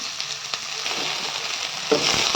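Onions sautéing with garlic in a pan while making mint chutney, a soft steady sizzle with occasional stirring scrapes that swells louder near the end.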